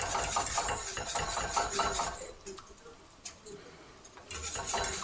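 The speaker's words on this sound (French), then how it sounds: "On fouette, on monte à ébullition" A whisk scrapes and clinks against a pan while stirring the mustard sauce for rabbit, with fast rhythmic strokes that are busy and close at first, then slow to scattered taps before picking up again.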